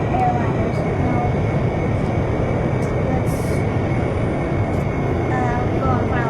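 Steady loud roar of an airliner's engines in a flight simulator game during final approach, a continuous dense drone throughout with a few faint higher tones and no voices over it.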